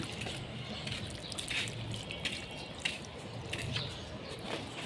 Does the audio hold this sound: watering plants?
yes